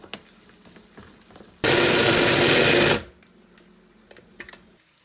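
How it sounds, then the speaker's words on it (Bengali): An electric mixer grinder whirs loudly as it grinds a cashew spice paste for butter chicken. There is one steady burst of about a second and a half, alone, between quiet stretches of kitchen noise. "এবার এই মশলাটা আমি মিক্সির জারের মধ্যে দিয়ে দিচ্ছি।"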